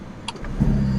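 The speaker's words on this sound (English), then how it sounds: "And the engine goes on." A 2021 Ferrari supercar starts up: a brief electronic chime, then the engine catches and settles into a low, steady rumble close by.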